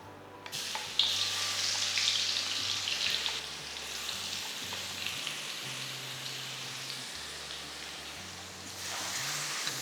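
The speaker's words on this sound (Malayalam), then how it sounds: "അപ്പോൾ ഇവിടെ എണ്ണ ചൂടാകുമ്പോൾ നമ്മൾ ചതച്ച ഇൻഗ്രീഡിയൻസ് ഒന്ന് വഴറ്റിയെടുക്കാം." Crushed garlic and shallots sizzle steadily in hot coconut oil, a dense, continuous frying hiss that swells after the first second and holds throughout, with faint low hum beneath and no talking.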